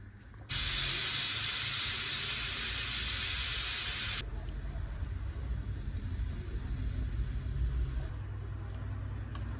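A pressure cooker of dal lets off a loud, steady, close hiss of steam for several seconds. It then drops to a softer continuous hiss over a low background rumble.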